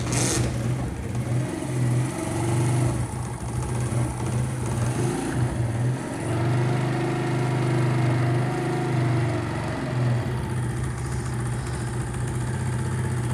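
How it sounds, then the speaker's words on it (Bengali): A motorcycle engine fitted with new piston rings idles steadily up close, a low throbbing hum with a slight rise in revs partway through, while the bike owner's title notes poor sound and weak power after the refit. "বাইকটি স্টার্ট হয়ে গিয়েছে। যেহেতু নতুন রিং পিস্টন, ইঞ্জিনটা একটু হিট হবে"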